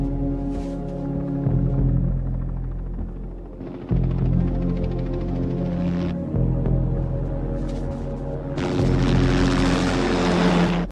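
A helicopter's engine and rotors drone steadily and loudly throughout, the tone shifting a few times before a harsher roar near the end.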